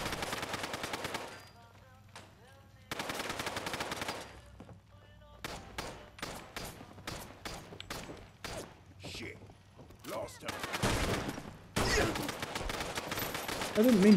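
Gunshots in a video game, rapid bursts of automatic fire alternating with single sharp shots, loud and close, with talk in between.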